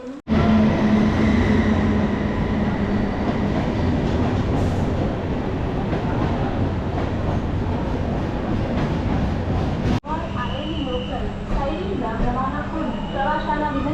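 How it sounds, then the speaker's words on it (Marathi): A local train pulls into a Mumbai station platform with a loud rumble and clatter of wagons and squealing wheels; a public address voice and platform chatter sound over it, and a quieter echoing hall follows after a sharp break. "आता ट्रेन जस्ट आली आहे."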